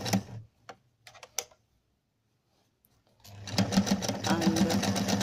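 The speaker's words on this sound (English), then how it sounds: "I'm now going to stitch this" A sewing machine stitches a sponge bag for a cushion, starting after a few soft handling clicks and a pause, then running steadily and close with a fast mechanical rattle.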